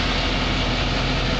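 A 2008 GMC C5500 crew cab mechanic's truck with about 109,000 miles idles steadily, its engine a continuous, close, even low rumble with no voices.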